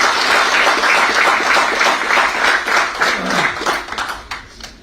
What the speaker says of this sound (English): join me in welcoming him with a round of applause